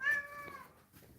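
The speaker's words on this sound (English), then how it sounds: "We've got this meow." A cat meows once, a clear tonal cry up close, followed by quieter faint sounds with no one speaking.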